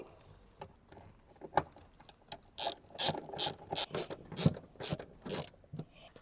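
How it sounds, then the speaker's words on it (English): Ratchet tightening bolts while installing a fire extinguisher mount in a RAM 1500 DT, rapid bursts of clicking pawl strokes with brief pauses between, close and moderately quiet, no talk. "And just tighten them all up."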